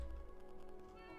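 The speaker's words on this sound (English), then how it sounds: "This cat really wants to go over there." A cat meows once in Minecraft, a short close mew over a faint steady game background.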